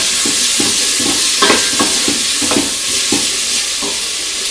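Onions and bacon lardons frying in a pan, a steady hissing sizzle with regular rhythmic stirring scrapes, close and alone without speech.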